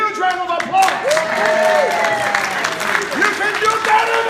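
An audience applauds a family at a gathering, with scattered clapping and some cheering, and voices calling out over it close by.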